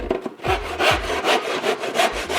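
A saw cuts a miter through a wooden cornice piece with rhythmic, rasping back-and-forth strokes, close and fairly loud, about two strokes per second.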